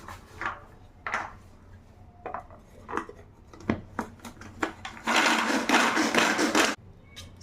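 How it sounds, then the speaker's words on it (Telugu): Cashews and almonds chopped in a kitchen chopper: scattered clicks and taps of handling, then a loud, dense whirring rattle of the blades working through the nuts for a couple of seconds before it stops abruptly. "చాపర్లో వేసేసి వీటిని చిన్న చిన్న పీసెస్గా చాప్ చేసుకోవాలి"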